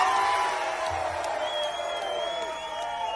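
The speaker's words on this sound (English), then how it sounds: "We're gonna do a quick cheer vote right now." Protesters at an Ambassador Bridge demonstration cheer and whoop together in a vote, a sustained mass of voices and shouts with a few whistles carrying above the crowd.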